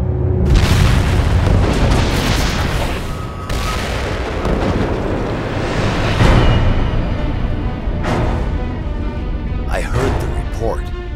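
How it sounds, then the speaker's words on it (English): A gunpowder magazine of black powder barrels blows up, heard as a sustained deep, rumbling blast with rolling booms over several seconds, dramatized with a narrating voice and low music underneath. "Closer to the blast, Pike sees the flash of the explosion."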